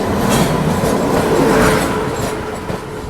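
The Gondwana Express rolls along after leaving Itarsi, heard from inside with a steady loud rumble of wheels on track and faint rhythmic clatter, no voices.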